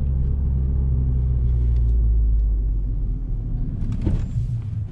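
A car pulls up with its hazard warning lights flashing, heard as a steady low engine rumble up close, with a brief louder swell of tire and body noise near the end.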